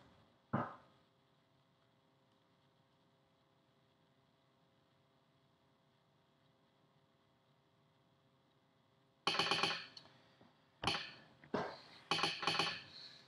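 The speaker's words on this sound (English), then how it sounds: "you should hear the clicking from the sounder" An Arduino-controlled telegraph sounder clicks sharply in short bursts, one isolated click early and then rapid clusters of loud clacks after a long quiet hum, close and clear with no speech.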